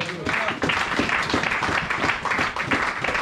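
A church congregation applauding, a steady wash of clapping from many hands with voices mixed in throughout.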